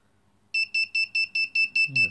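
An OLEDiUNO clock's alarm buzzer starts up and beeps in quick, even pulses, seven or eight shrill tones, close and loud, with a voice starting at the end.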